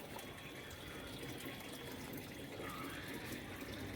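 Quiet, steady trickling and gushing of water running continuously through NFT hydroponic channels, a soft broadband wash with no voices.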